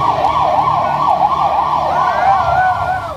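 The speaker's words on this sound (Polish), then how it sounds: "aż pogotowie jedzie i straż pożarna." A loud ambulance or fire engine siren wails in a steady up-and-down pattern, close by, with a second siren tone joining toward the end, at an outdoor big band event in a town square.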